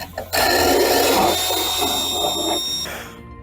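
A brass wire wheel on a power tool spins up against a brake part on a BMW E92, scraping at its coating with a loud, whining, grinding buzz for about two and a half seconds before winding down.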